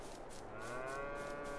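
Cow mooing in Farming Simulator 22 on a Texas farm map, one long, loud, close, sustained low moo with a drawn-out tonal bellow, heard alone without talk.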